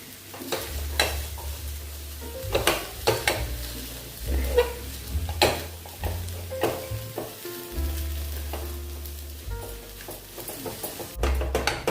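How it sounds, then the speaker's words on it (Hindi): A spoon stirs amchur powder, salt and other spices into a semolina mixture in a pan, with repeated scraping strokes over a soft steady sizzle, close and moderately loud with no voices. "अभी अच्छे से इसको मिक्स कर लेंगे सभी मसाले को।"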